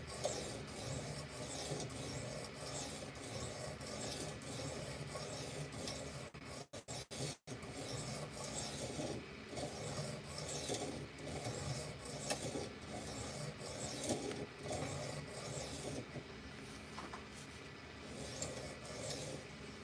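A knife blade, taken off its handle, scrapes back and forth across a sharpening stone in a steady, continuous rasping rhythm, close and fairly quiet, with a brief break partway through.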